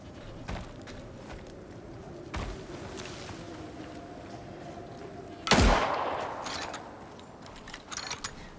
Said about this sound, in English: trying to aim the rifle while moving is difficult